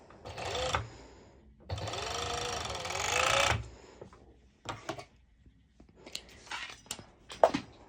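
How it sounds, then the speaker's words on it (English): A serger sewing machine stitches an elastic underbust band in bursts: a short run, a longer steady whir of rapid stitching, then several brief stop-start spurts with clicks and handling noises, close by with no talking. "I place it under my foot on my serger"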